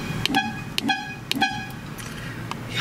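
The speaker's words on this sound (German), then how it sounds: "Die Hupe kann man in einem Ferrari leider nicht ganz ernst nehmen." A Ferrari Testarossa's horn gives three short, evenly spaced toots in the cabin, thin and high-pitched, followed by fainter echoing beeps while the car hums along.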